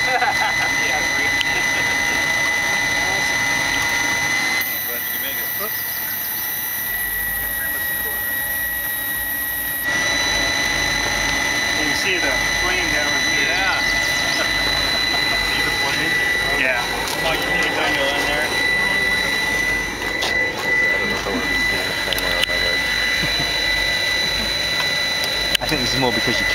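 A steam-powered motorcycle engine burning jet fuel runs steadily with a loud, continuous hissing roar and whining tones, while people talk nearby.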